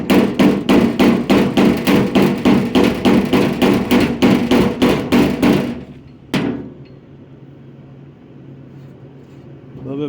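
Rapid, loud hammer blows beat on a metal patch piece being fitted to an FJ60 body, a steady train of sharp strikes for several seconds, then one last hit and quiet workshop hum.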